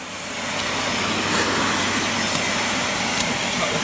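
A Miele S6220 Cat & Dog vacuum cleaner runs close by with a loud, steady, broad whooshing roar that holds constant with no pauses.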